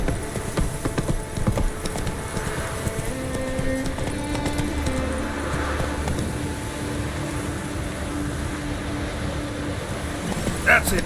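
Roach the horse gallops in The Witcher 3 game, a steady run of hoof clip-clops under continuous game ambience, with a voice speaking over it.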